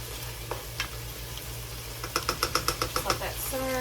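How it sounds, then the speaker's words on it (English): Corn, mushrooms and broccoli cooking in a pan, a low sizzle and bubbling with a few clicks and a quick run of sharp taps from a utensil, close by over a steady background hum. "Just let that simmer for a little bit longer."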